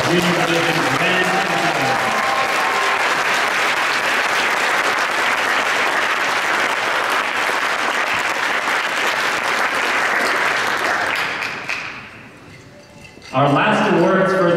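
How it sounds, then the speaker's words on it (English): Loud, dense applause from an audience at a science fair awards ceremony for junior division winners, sustained evenly for about twelve seconds before fading, then a voice speaks over a brief renewed swell. "Let's give a big round of applause for our junior division men."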